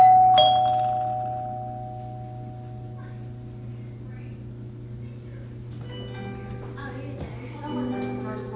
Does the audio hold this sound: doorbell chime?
yes